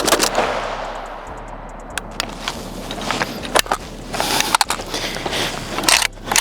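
Rapid gunfire from a PSA short-barreled rifle, a string of sharp loud cracks with uneven gaps between them, heard up close outdoors and getting denser toward the end.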